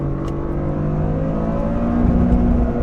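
A Toyota GR Corolla accelerates hard in second gear up to 60 mph, its engine droning loud and close with a steadily rising pitch and no break for a shift.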